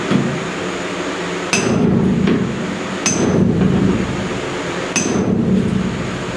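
Hammer-and-dolly work on a dent in a car body panel: three sharp metallic strikes, about 1.5 seconds apart, each ringing briefly over a steady background hum.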